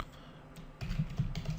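Quick tapping on a computer keyboard while writing a JavaScript script, a faint pause first and then a brisk run of close, clicky keystrokes.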